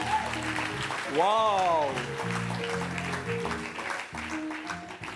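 A church congregation applauds and cheers in a lively burst, with one voice letting out a loud rising exclamation above the steady clapping crowd.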